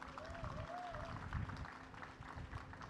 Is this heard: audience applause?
yes